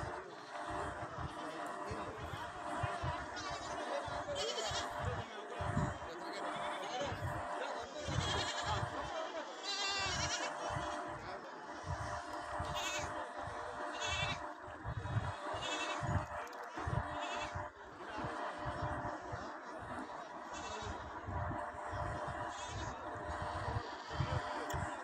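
Goats bleat at a livestock market in Kerala, with repeated calls mixed into crowd noise and ongoing talk.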